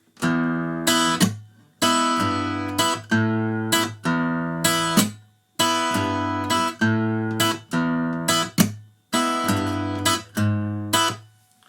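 An electric guitar plays a repeating bluesy three-bar riff, chunky chords struck in a steady rhythm with short gaps between phrases, loud and close, no talking.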